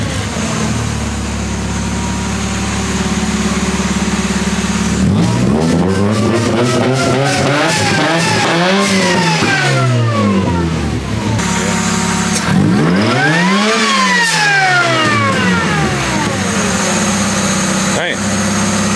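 Supercharged 1.6-litre Mazda Miata engine idles steadily, then revs hard twice toward the limiter with rising and falling sweeps, loud and close, with brief pauses at idle between.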